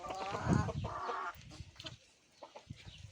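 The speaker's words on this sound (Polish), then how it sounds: "Więc to jest już kwoka numer dwa." Broody hen clucking, a close, low throaty cluck and drawn-out grumbling calls from a sitting hen, then softer scattered clucks and quiet pauses.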